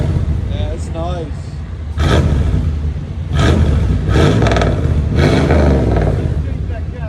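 Repeated sharp revs from a truck with a high flow catalytic converter, three or four loud bursts climbing over a deep rumbling idle, close by, while voices chat in the background.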